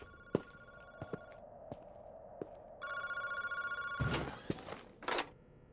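A phone in a phone booth in the video game Paranormasight rings in repeated electronic bursts, moderately loud, with sharp clicks and clatter between the rings and a louder burst of noise near the end.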